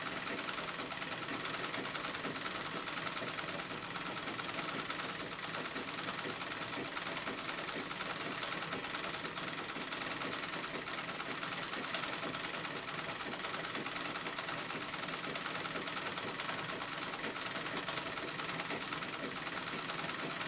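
A sewing machine stitches quilting lines through white denim, its motor and needle running in a steady, unbroken drone for the whole stretch at moderate volume.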